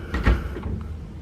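A hotel room TV console's sliding door rolls along its track in a brief, close rumble with a soft knock at the start, then fades out.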